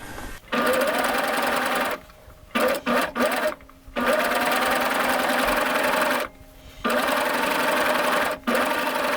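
A serger sewing machine running through fabric in loud, steady whirring bursts, starting and stopping several times with short pauses between runs, close up and alone.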